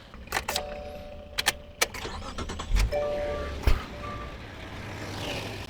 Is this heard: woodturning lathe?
no